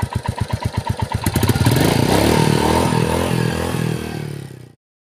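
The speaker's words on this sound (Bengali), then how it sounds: "ইঞ্জিনের আওয়াজটা শুনুন।" A Royal Enfield Meteor 350 motorcycle engine revving: first a rapid run of distinct thumping pulses, then a sustained loud roar that holds for a few seconds and fades abruptly into silence, close by and with no talking.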